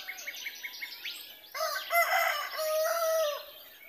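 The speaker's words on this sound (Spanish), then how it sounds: "Espero que disfruten del canto de los pájaros, de las aves, de los gallos." Roosters crow repeatedly in a garden with tall trees, their loud drawn-out calls overlapping with softer chirps and tweets from small wild birds, fairly close and with no talking.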